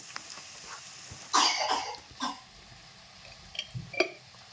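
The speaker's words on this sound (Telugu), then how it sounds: "ఇప్పుడు బాగా దగ్గు వస్తుంది" A sharp cough bursts out, followed by a couple of smaller coughs and throat sounds, close by in a quiet room.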